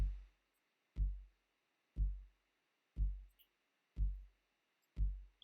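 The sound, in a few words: house music beat sequence played back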